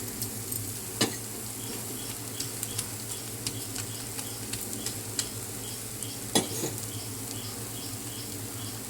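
Ragi rava dosa cooking slowly on a pan over a low flame, giving a steady soft sizzle with a few faint scrapes and clicks throughout.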